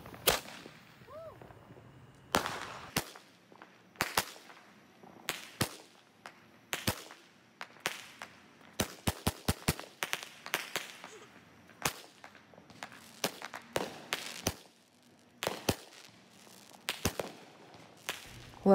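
Pricey firecrackers set off at a Fourth of July celebration crack in sharp, irregular bursts, some single and some in rapid clusters, echoing outdoors at moderate distance across nearly twenty seconds.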